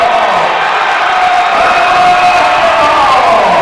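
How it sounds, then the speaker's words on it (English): A basketball crowd inside Bill Greehey Arena cheers loudly on its feet, a dense, sustained roar of shouts and whoops that swells slightly and fills the whole space. "the crowd here inside Bill Greehey Arena on their feet"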